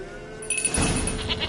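Goat bleating in the video game The Witcher 3, a short nasal bleat that swells mid-clip and wavers before fading, heard close and alone with faint ambient game background.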